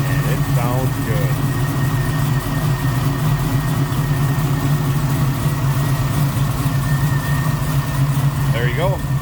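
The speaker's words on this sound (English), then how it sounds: "Big block under the hood, 454, 4-speed manual transmission." A 1968 Chevrolet Camaro SS tribute with a 454 big-block V8, headers and a high-rise intake, idling nearby with a steady low rumble. Faint voices sit beneath the engine.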